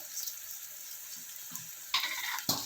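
Onions and green chillies fry in a pan with a soft, close sizzle, followed by two sharper hissing bursts near the end.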